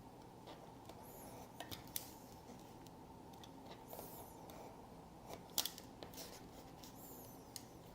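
Scissors snipping through paper in short, irregular cuts, close and quiet, with faint rustling between snips and no talking.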